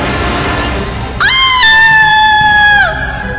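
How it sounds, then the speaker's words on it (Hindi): A woman's sharp, high-pitched scream cuts in suddenly and holds loud and steady for about two seconds before trailing off, a horror-story sound effect over a low murky background. "वो बस एक तीखी आवाज में चीख पड़ी, जिससे वहां का सन्नाटा टूट गया"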